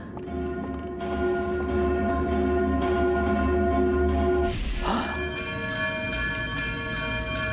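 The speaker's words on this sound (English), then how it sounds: "it makes the bells ring here and that wakes us up" Alarm bells ring in Outer Wilds: Echoes of the Eye, a sustained metallic ringing drone with repeated strikes, shifting midway to a brighter, busier clangor that carries on steadily.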